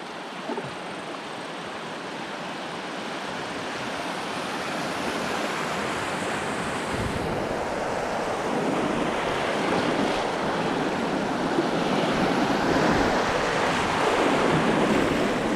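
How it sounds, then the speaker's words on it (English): Class 2 rapids on the Leont River, heard from a solo canoe, give a continuous broadband roar of rushing whitewater mixed with wind buffeting the microphone, steady and growing slightly louder over time. "coming out of my rapids, I instantly run into these rapids"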